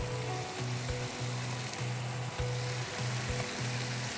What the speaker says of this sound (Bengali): এখন আমি এই যে ভাজা চিকেনগুলো দিয়ে দিচ্ছি